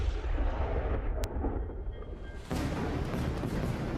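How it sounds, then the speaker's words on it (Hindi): Bunker buster bombs explode in Isfahan, Iran, heard as a heavy, rumbling roar of distant blasts. A sudden louder surge comes partway through, with a brief sharp crack before it. "ईरान के इस्फहान में एक साथ चंद सेकंड के भीतर मल्टीपल ब्लास्ट हुए"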